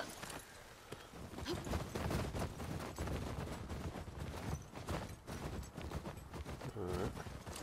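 Horse hooves trot in a steady clip-clop through The Last of Us Part II, loud and close, mixed with game ambience and bursts of sharper impacts.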